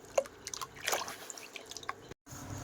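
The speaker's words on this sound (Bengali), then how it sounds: "এখন আলুগুলো ধুয়ে তুলে নেব" Potatoes being washed by hand in water make soft drips, splashes and squishy sloshing in short irregular bursts, close and fairly quiet, with a brief silent gap near the end.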